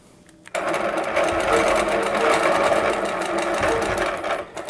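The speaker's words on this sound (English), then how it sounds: "So what I'm going to do is stitch across over here to this corner point" A sewing machine runs steadily while free-motion quilting a block design, a loud close continuous whirring hum of rapid stitching that starts abruptly and carries on without pause.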